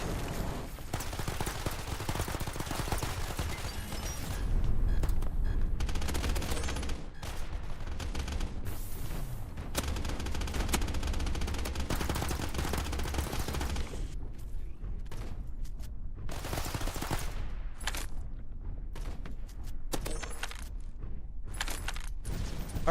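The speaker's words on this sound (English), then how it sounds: "the shotgun's pretty good actually" Repeated shotgun blasts and crashing destruction in the pre-alpha video game Shatter Rush, loud and dense throughout, with bursts of gunfire over a continuous rumble of breaking debris.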